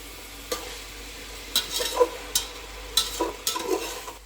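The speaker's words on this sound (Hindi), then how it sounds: "आप ऐसे फ्राई करते रहिए चिकन को प्याज के साथ, अच्छे से हो जाएगा।" Chicken frying with onions for Muradabadi chicken biryani sizzles softly under repeated spatula scrapes and knocks against the pan, coming every second or so.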